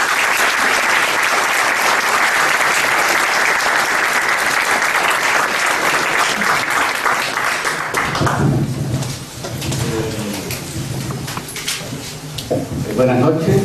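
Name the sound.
audience applause welcoming a lecture speaker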